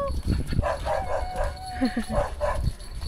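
Several dogs bark and yip in short repeated bursts at a house, some nearby and some farther off, mixed with people talking.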